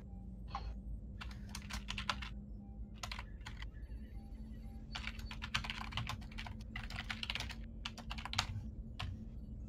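Someone types on a computer keyboard in quick bursts of clattering keystrokes, separated by short pauses, with a low hum underneath.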